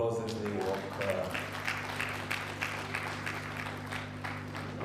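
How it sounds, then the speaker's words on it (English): Audience round of applause at an innovation champions awards event for local economic development, a steady moderate clapping from a crowd heard at a distance under faint background tones and music. "Let's give them a round of applause as they walk."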